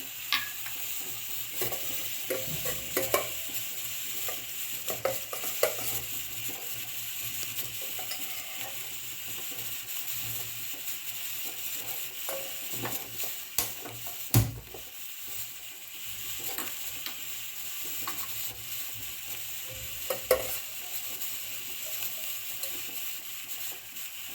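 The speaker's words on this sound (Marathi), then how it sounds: "आता आपण ह्याच्यात अर्धा चमचा बटर घालून घेऊया आणि त्याच्यातच हे चार मिरे आणि चार लवंगा" Four black peppercorns and four cloves fry in half a spoon of melted butter for a carrot soup. A soft, continuous sizzle runs underneath occasional light clicks and stirring scrapes, fairly faint and steady, with no voices.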